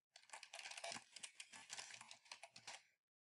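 Keys clatter in a quick, uneven run on a computer keyboard as a password is entered, close and clear for about three seconds with no talking.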